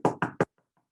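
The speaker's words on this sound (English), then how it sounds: "Baba Brina was washing the dishes when she heard another knock." Three quick, loud knocks on a door sound in an even rhythm, followed by a faint echo and then silence.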